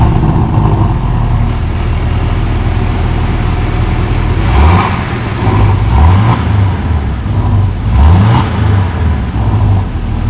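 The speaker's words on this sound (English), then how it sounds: "Let's hear how the 718 sounds with the factory exhaust." A Porsche 718 engine with factory exhaust idles with a deep burble, then blips sharply through three quick revs, each rising and falling back, close by.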